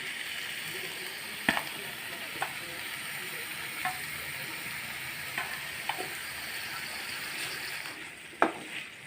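Paneer cubes frying with vegetables in a hot pan give a steady close sizzle, with occasional sharp clinks of a spatula stirring at irregular intervals.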